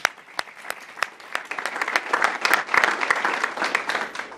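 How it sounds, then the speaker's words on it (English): A small crowd at a school recognition ceremony applauds steadily, the clapping building to a lively patter and holding for several seconds. "let's give them a round of applause"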